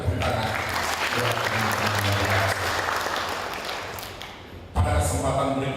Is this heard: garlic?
no